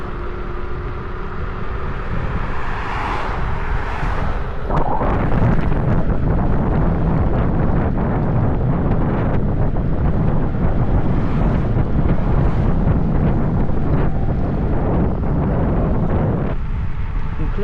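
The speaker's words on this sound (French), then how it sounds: "Il y a du vent en face de moi." Loud headwind roar buffeting the microphone while riding an Ausom L1 electric scooter at about 42 km/h, a constant dense rumble with gusting swells, steady for the whole stretch with no clear talk.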